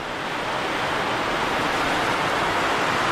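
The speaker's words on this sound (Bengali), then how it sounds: "বাইরে বেশ ফাটিয়ে বৃষ্টি হচ্ছে।" Heavy rain pours down outside in the hills of Pabong, North Bengal, forming a dense, unbroken roar of rushing noise at constant loudness, with no voices.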